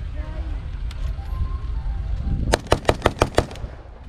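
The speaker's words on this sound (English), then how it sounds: "Let's see what the M1 Garand can do." An M1 Garand rifle fired at a World War II D-Day reenactment in Conneaut, Ohio: six loud sharp shots in quick succession near the end, after a stretch of outdoor rumble and faint talk.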